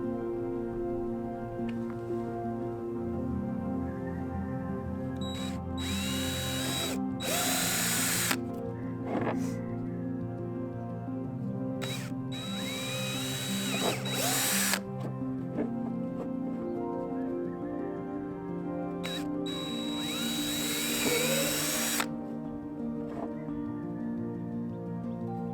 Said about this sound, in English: Now that those are all marked, it's time to drill.